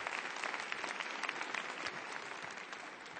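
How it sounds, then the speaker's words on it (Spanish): A debate audience applauds a guest, with steady dense clapping from many hands held at an even level throughout, moderately distant and without voices. "Un aplauso para él."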